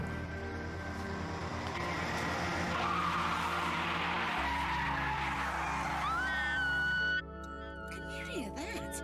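A car skids with loud squealing tyres in a Doctor Who episode as it runs someone over, a sustained screech that cuts off abruptly, with voices talking around it.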